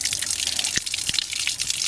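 Outdoor water tap dripping, with a few distinct close drops landing over a steady wet trickle and background hiss, no voices.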